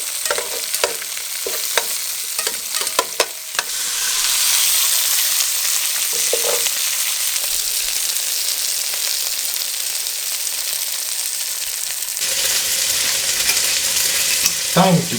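Shallots and garlic frying in a pan for an Italian rabbit stew, a loud steady sizzle with stirring scrapes running for most of the stretch after a few early knocks, no talking.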